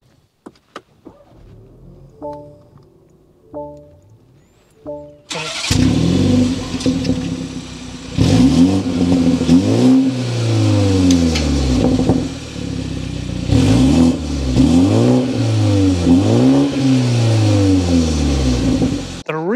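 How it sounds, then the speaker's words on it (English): A 2024 BMW 430i Coupe's turbo engine cranks and catches after a few soft clicks, then settles into a loud idle broken by repeated sharp revs that rise and fall. "Let's go inside, start it up so you can hear that exhaust note."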